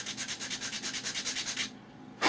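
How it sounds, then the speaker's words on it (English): Sanding block worked by hand on a model aircraft build: a steady run of about a dozen quick, even rubbing strokes, close and alone, a brief pause, then another stroke begins. "let me get my sanding block."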